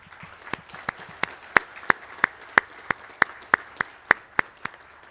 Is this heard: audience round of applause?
yes